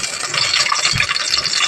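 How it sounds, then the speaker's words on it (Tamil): Ghee is poured into a hot pan that already holds oil, for cooking. A steady, fairly loud hiss of pouring and sizzling runs through the whole clip, with no voices. "நெய்யும் சேர்த்துக்கிறேன்."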